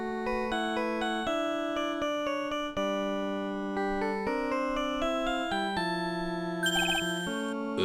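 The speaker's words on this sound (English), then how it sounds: "Oops. Sorry, that's my phone." An electronic phone ringtone in a video game plays a bright, stepping melody of clear synthetic tones, repeating phrases continuously and loudly with no talking over it.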